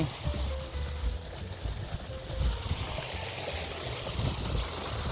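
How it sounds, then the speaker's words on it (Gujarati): Irrigation water runs steadily through a field channel in a village coriander field, a close, continuous rushing and trickling wash with no voices. "તો મિત્રો આપણું પાણી પૂગી ગયું છે અહીંયા છે"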